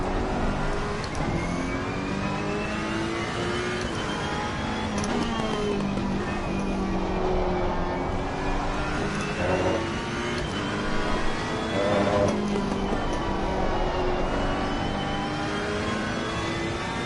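A Ferrari race car engine at Laguna Seca in Assetto Corsa Competizione holds a sustained high-pitched whine, rising and falling through gear changes and corners, loud and continuous throughout, with no voices.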